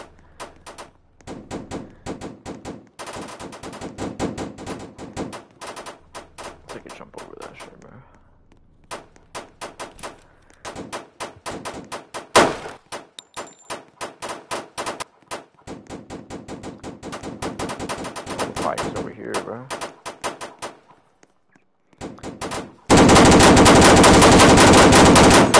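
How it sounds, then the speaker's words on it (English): Rapid bursts of fully automatic weapon fire from two guns in a shooter video game, dense and loud, with brief pauses between volleys, then a harsh continuous roar at the end. "Two fully automatic weapons."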